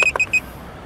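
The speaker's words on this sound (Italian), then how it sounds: "Però quello lì continua a fare bip bip e mi inquieta veramente." Drone controller sounding a quick warning of three short electronic beeps within half a second, close and clear, then quiet.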